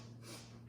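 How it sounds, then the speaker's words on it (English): A short, steady nasal inhale during a mat Pilates exercise, a soft continuous airy sniff lasting under a second, close and quiet with no talking. "Inhale, sniffing breath."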